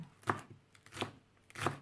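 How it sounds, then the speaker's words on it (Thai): Iceberg lettuce is chopped with a knife on a board for a khanom jeen salad, giving three crisp, separate chops spaced about a second apart, close and clear. "เดี๋ยวเราไปหั่นผักกาดแก้ว"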